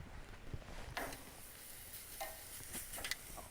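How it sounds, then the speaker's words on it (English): Venison tenderloin rubbed with High Mountain Moose seasoning sizzles faintly on a hot grill, a quiet continuous hiss broken by a few soft ticks and pops. "Got a hot grill going over here, and to that I'm going to add this venison tenderloin"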